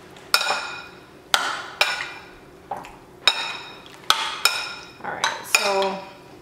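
Beans and chicken being mixed in a metal pot, with a spoon scraping and clinking against the sides in about eight separate strokes, each sharp at the start and then fading, close and moderately loud with no talking.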